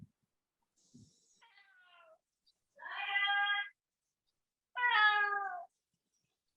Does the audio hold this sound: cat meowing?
yes